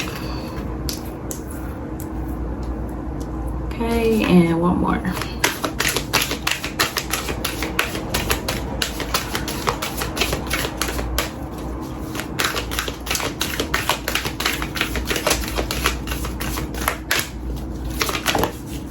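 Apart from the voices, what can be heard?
shuffling oracle cards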